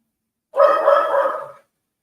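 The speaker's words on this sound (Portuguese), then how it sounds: "Tá dando para ouvir meu cachorro aí" A pet dog gives one short, drawn-out vocal sound lasting about a second, close and fairly loud, with silence before and after.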